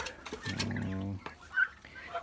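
A bronze turkey's gobbling call, a rapid warbling burst lasting under a second, followed by softer bird noises and faint background sounds.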